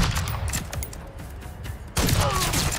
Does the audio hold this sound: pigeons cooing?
no